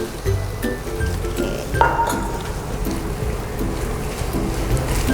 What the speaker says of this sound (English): Just keep stir fry until it's cooked.